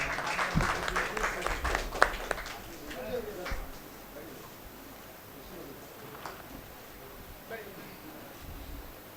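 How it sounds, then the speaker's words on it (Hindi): An audience at a mushaira welcoming ceremony in Jabalpur claps in a brief burst that fades into crowd murmur and a voice speaking. "पुरजोर तालियों से इस्तकबाल कर लें।"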